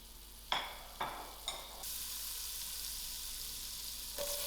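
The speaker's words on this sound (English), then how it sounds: "I've got my stove on moderate heat and I'm going to add in my butter to my pot." Butter melting in a pot on a stove over moderate heat, a soft steady sizzle with a few quiet scraping stirs at the start, faint and close with no voices.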